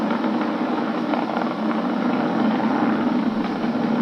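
A SpaceX Falcon 9 rocket rumbles as it throttles down during a crewed launch to the International Space Station, a loud, continuous, broadband roar that holds steady the whole time.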